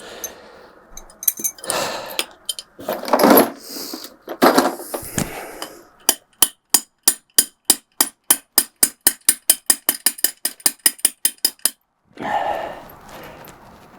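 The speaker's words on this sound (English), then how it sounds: "when the bolts just fell off" During installation of a Ubiquiti ETH-SP-G2 surge protector for outdoor Ethernet grounding, a rapid series of sharp metallic clicks and taps, about twenty evenly spaced, rings out loud and close after some earlier clatter, with brief rustling at the end.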